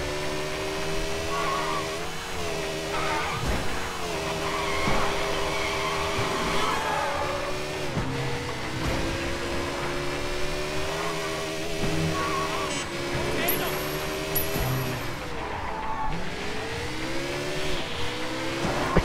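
Video game car engine in Sleeping Dogs roaring under a nitrous speed boost, a loud sustained rising whine with revving over game music, steady throughout.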